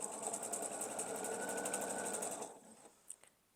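A sewing machine stitches quilt triangles, a fast even whirring hum of needle strokes for about two and a half seconds, then stops, leaving a couple of faint clicks in near silence.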